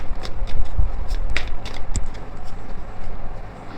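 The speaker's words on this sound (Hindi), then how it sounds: "मैं बार बार शफल कर रही हूँ" Tarot cards shuffled by hand, a run of soft papery riffles and flicks repeating at close range with a low rumble underneath and no voice.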